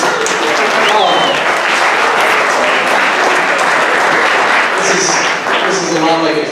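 A debate audience bursts into sustained, loud applause, dense clapping from a crowd that carries on throughout, with voices talking over it near the end.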